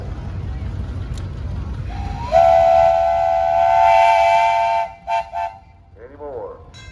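A steam whistle on an engine built from a 1922 Buffalo-Springfield road roller's boiler and engine gives one long, loud, steady blast at a steam and threshing show parade in Mason, Michigan, then a couple of short toots over outdoor crowd noise.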